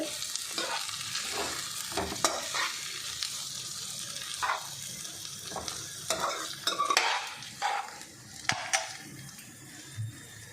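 Cluster beans (gorikayi) stir-fried in a pan, with a steady close sizzle broken by repeated scraping and stirring strokes that come through as sharp bursts, and no talk.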